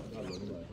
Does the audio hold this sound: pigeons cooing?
yes